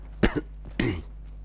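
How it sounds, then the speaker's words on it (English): Two harsh, close coughs in quick succession, each a sharp burst followed by a brief rasp, with quiet between them. "Still got this nasty, nasty cough"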